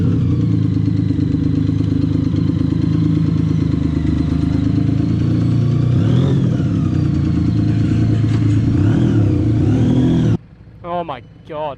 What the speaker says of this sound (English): that's not a road legal exhaust